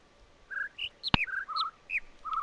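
Repeated bird calls from The Witness video game: short clear chirps and whistled tweets, some rising, some falling, spaced irregularly over a quiet background, with one sharp click partway through.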